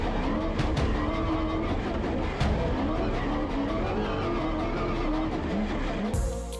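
Ford M-Sport T1 Raptor rally raid car heard from onboard while racing across the Abu Dhabi desert, a loud continuous engine roar with shifting pitch and brief tire scrabbling, steady throughout with no talk.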